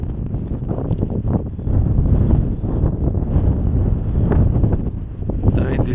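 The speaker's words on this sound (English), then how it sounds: "The wind is crazy strong in here." Strong, gusting wind buffeting the microphone on Mount Fuji, a loud continuous low roar that swells and eases.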